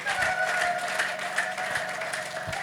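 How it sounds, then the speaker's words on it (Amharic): A church congregation claps steadily through a deliverance service, dense sustained applause with a faint held tone above it and no pause. "አጨብጭቡ ስለ እግዚአብሔር ክብር።"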